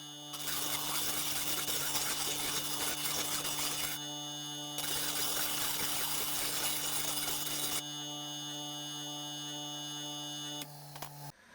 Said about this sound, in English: Just scrub it on the sandpaper, or I'll show you how I do it now.